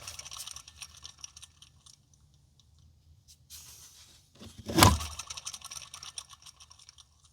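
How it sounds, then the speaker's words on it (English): A worn idler pulley spun by hand makes faint scratchy, gritty rattling that comes and goes, with a sharper louder burst of grinding noise about two-thirds of the way through before settling back to a quiet scrape. "both pulleys make a sound that you do not want to hear"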